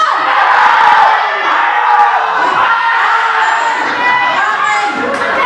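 Children shouting at full volume in a birthday party shouting game, a loud sustained crowd of young voices yelling and cheering together, close and continuous with a slight dip near the end.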